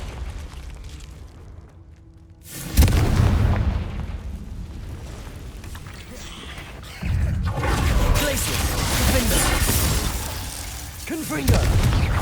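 Spell-blast explosions from the Confringo spell in Hogwarts Legacy, cast inside a cave: a loud booming burst around the third second, then a second sustained blast with crackling debris and a later hit, over game ambience.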